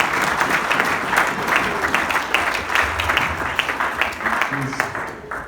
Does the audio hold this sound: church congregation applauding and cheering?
yes